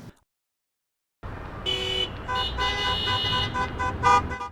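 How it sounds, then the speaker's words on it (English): Car horns honk around quiet stadiums in the Tri-Cities: after a brief silence, several overlapping horn tones sound continuously at steady volume, some sustained and some in short toots, with no talking. "A symphony of car horns filling the air around the otherwise quiet stadiums across the Tri-Cities"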